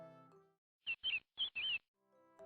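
A small bird chirps in a Kazakh animated fairy tale, four quick, bright high-pitched calls in two pairs, sounding alone in a brief gap between soft musical tones.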